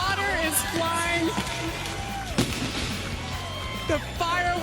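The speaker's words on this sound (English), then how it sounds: "The fireworks." Fireworks boom and crackle at a NASCAR Truck Series championship celebration, popping continuously under a loud crowd and voices in an open stadium.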